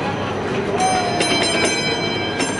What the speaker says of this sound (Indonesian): Keretanya tuh.